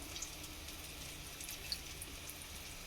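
A small splash of mixer-rinse water is poured into a cooking masala of Kashmiri chilli powder for a pea and besan dish: a faint, steady trickle with light splashy ticks, heard alone.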